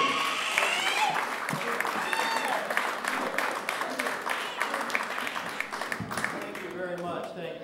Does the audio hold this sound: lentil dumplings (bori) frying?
no